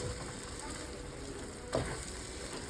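Vegan cheesy mac with chopped meatballs simmers in a pan, a soft steady sizzle and gentle bubbling with one brief louder knock near the end.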